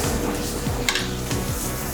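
Fish sears in a hot pan with a continuous, loud, broadband sizzle, with a few faint utensil clinks mixed in.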